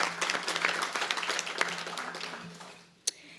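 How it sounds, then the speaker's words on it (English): A room gives a round of applause at a civic luncheon, dense clapping that slowly thins and fades over about three seconds, ending with one sharp isolated clap. "So please give them another round of applause,"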